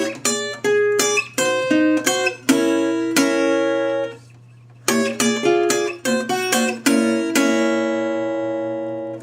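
An acoustic guitar plays a blues solo sequence close up. Plucked, ringing chord stabs come in bursts, one phrase breaks off into a pause, and a second phrase ends on a long sustained chord.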